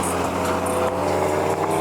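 A 400 HP Subaru WRX with all-wheel drive revs hard under acceleration, a loud, steady, droning engine note heard from inside the car and filling the whole moment.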